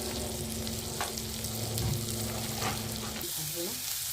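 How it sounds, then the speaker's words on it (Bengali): Onion, ginger and garlic fry in butter in a pan, a steady close sizzle with light stirring scrapes running continuously for about four seconds, with no voices. "বাটারে একটু ভাজা ভাজা হবে।"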